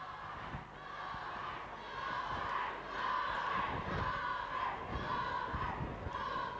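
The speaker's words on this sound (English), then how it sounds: "And the cheer still for the Rovers as Clonmore take this line ball" Spectators at the 1986 Clonmore county final hurling match cheer for the Rovers, a sustained roar of crowd shouts with occasional sharp knocks and louder swells.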